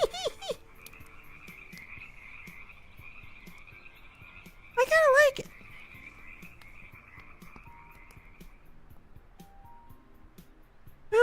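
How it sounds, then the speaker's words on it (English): Frogs croak steadily in a forest within a VRChat game world, a continuous chorus of trilling calls with a louder burst of croaks midway, while a person talks briefly at the start and end. "Ah, all the frogs."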